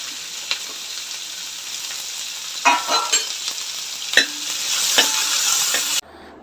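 Onions sautéing in a pan with cinnamon, cloves and bay leaves for egg biryani: a continuous close sizzle broken by several sharp scraping spatula strokes, cutting off abruptly at the end.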